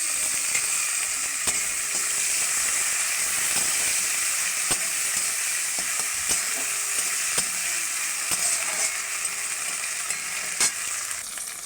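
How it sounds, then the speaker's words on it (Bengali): Fried onion with chopped tomato and ginger-garlic paste sizzling loudly in a pan, a dense continuous hiss with occasional stirring clicks close up. "পেঁয়াজটা ভালো করে লাল লাল করে ভাজা হয়ে গেছে, এবার দিয়ে দেবো টমেটো কুচি"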